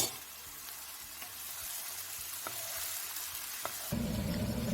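Cooked chickpeas sizzle with curry leaves and green chili in oil in an Instant Pot on sauté mode, a steady close frying crackle with a few sharp ticks and a louder burst of sizzling near the end.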